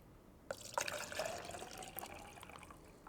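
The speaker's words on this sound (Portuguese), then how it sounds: "Transferir essa água aqui para o nosso vaso que a gente vai medir." Runoff water is poured from a container into a measuring pot, starting with a soft splash and continuing as a quiet, close trickle and burble for a few seconds, with no voices.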